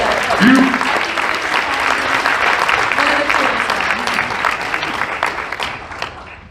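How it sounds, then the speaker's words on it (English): Sustained applause from a large audience, loud and steady throughout with dense overlapping claps, tapering slightly at the end. "give all of yourselves a round of applause"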